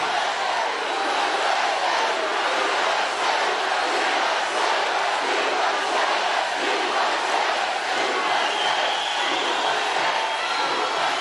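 A large political rally crowd in Washington Township, Michigan, roars and cheers continuously, a dense, loud wash of voices and shouting sustained throughout with no break.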